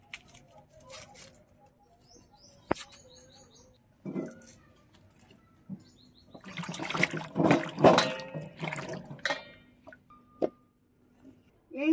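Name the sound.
water splashing while washing tomatoes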